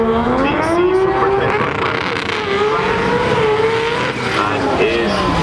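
A drag racing car at an import meet at Englishtown makes an aborted run, its engine note rising and falling in loud wavering revs under a commentator's steady talk.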